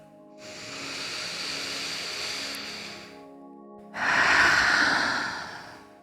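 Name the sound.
breathing during a breathing exercise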